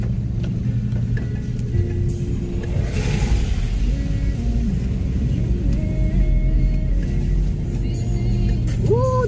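A car drives slowly on a badly damaged road slick with water after heavy rain near Port Maria, with steady engine rumble, occasional revving and road noise filling the scene, no voices.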